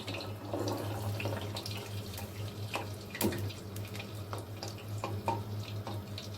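Chicken pieces for KFC-style crispy fried chicken frying in hot oil, giving a steady close hiss scattered with small crackles and pops, with no talking.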